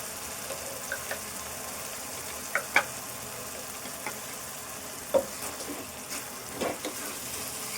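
Green chili paste gets stirred into sizzling onions in a pan for egg curry: a steady close frying hiss with occasional spoon scrapes and small pops, no talk.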